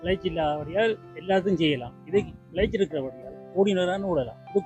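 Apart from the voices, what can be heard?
No distinct noise like a dog, phone or traffic.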